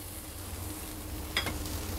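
Onion goes into a hot cataplana with garlic, producing a soft steady sizzle close by, with a brief sharper scrape or hiss near the end.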